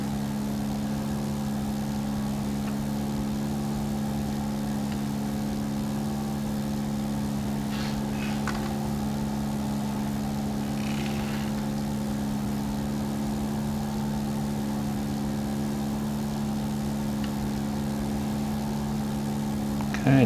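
A light aircraft engine in a flight simulator game drones steadily during a night climb-out, its constant, fairly loud hum holding level throughout with only faint variations.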